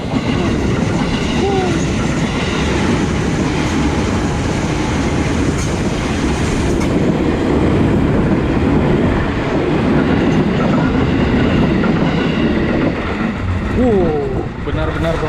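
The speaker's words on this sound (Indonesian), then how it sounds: "Nah, benar kan pemirsa, ada kereta tuh pemirsa." A train rumbles past close by near Bintaro, a steady loud roar of wheels and carriages that continues throughout with faint squeals near the end.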